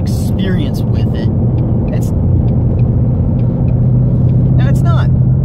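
A 2018 Ford Mustang GT at stock ride height drives along with a steady, close engine and road rumble that holds throughout, while someone talks over it.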